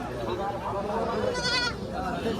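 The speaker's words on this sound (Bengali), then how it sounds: "এই যে দশটা ছাগল দেখতে পাচ্ছেন, মা ছাগল, দুইটা বাচ্চা।" Goats, including mother goats with kids, bleat close by at a goat market in Hoybotpur, Natore, with people talking loudly over and around the calls.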